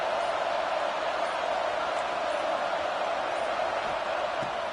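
Steady, dense roar of a stadium crowd in a PS5 football video game, a broad continuous wash of cheering noise holding at one loud level throughout with no distinct voices standing out.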